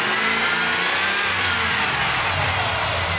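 Dodge Dakota engine with a fault that shuts it off while driving, revving up under acceleration, a steady rising drone close by with no voices.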